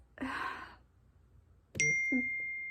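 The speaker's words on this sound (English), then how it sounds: "how many of you guys are checking your phone as my phone dings?" A phone gives a short notification ding, a bright tone that rings on and slowly fades. It follows a soft breathy sigh and a pause, and a faint low thump comes after the ding.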